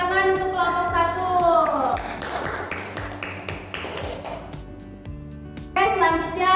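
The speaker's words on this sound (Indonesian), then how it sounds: "Oke, tepuk tangan untuk kelompok 1." Students in a classroom applaud a presenting group, a short burst of dense clapping that rises between children's voices and other speech before fading out.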